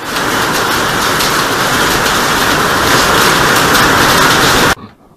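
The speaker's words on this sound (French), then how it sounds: "Et c'est de la grêle." Hail pounding down in a mountain thunderstorm at about 1400 metres on the Grand Ballon d'Alsace, a loud, dense, continuous drumming roar with no pauses that stops abruptly near the end.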